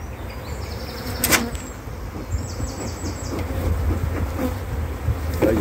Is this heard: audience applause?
no